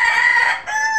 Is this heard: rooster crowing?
yes